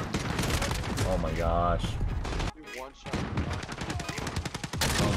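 Rapid Ram-7 assault rifle fire in a Call of Duty Modern Warfare match on Shipment, loud dense bursts nearly continuous, with a brief pause and an excited voice talking over the shooting.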